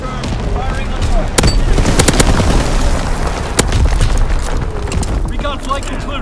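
Artillery and automatic gunfire from Call of Duty: WWII pound loudly and steadily, with rapid bursts and several heavy booming impacts across a few seconds, under a backdrop of battle din and occasional voices.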